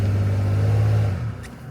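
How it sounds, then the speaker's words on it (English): A vehicle's engine revs loudly in reverse as its wheels spin in deep snow during a blizzard, a steady close drone that eases off near the end. "just gonna put this thing in reverse here and spin ourselves down a little"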